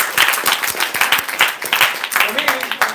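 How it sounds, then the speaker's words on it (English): An audience applauds at a Toastmasters club milestone meeting after a player auction, a steady patter of hand claps filling the room and continuing for a few seconds. "big round of applause."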